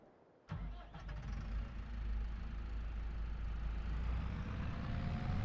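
A Lindner tractor in Farming Simulator 25 starts with a sharp crank just after half a second. It then settles into a steady, rumbling diesel idle that holds evenly to the end.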